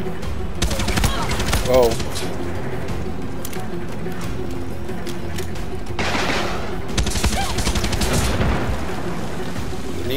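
Sniper rifle and other gunfire in Far Cry 6 gameplay: several loud sharp shots and bursts crack out, with a dense barrage near the end, while a voice briefly exclaims over the noisy battle.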